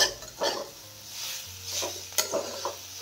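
A spoon stirring thick besan pithla in a pan, a few soft scraping strokes with faint sizzling and an occasional metallic clink, close and quiet with no talk.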